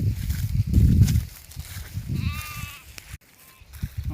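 Sheep from a grazing flock give a clear wavering bleat midway, amid rustling, low voices and other livestock noise.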